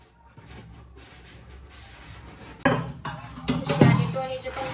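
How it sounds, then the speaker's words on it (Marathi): Dishes and a jar being washed, with plates and metal utensils clinking and rubbing close by, soft at first and then louder clatters of crockery toward the end. "जार पण धुवायचा आहे, बरेच दिवस झाले धुवून"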